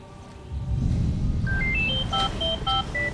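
A phone rings with an incoming call as a run of short electronic beeps that climb and fall in pitch, sounding over a low background murmur.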